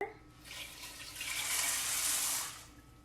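Water poured from a tap into a pot of beans, a rising rush that swells to a full, bright splashing stream and then tapers off as the flow stops, heard close and alone.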